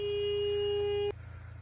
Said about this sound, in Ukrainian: Сигналить.